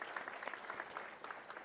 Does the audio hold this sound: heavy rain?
no